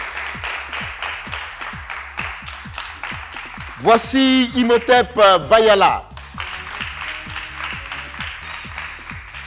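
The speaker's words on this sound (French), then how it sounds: "sous vos applaudissements" Café show audience claps and applauds for a couple of seconds after a host's spoken introduction, with talk resuming over light rhythmic tapping once the applause fades.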